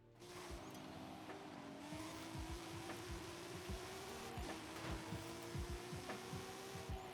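Cars racing in Forza Horizon 5, a continuous droning engine note with repeated tire squeals and skids as they brake into corners, steady and fairly faint.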